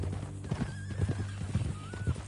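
Horse hooves clip-clopping in an irregular rhythm with a drawn-out neigh, from a Western-style video game played on PS4, close and clear over a low music bed.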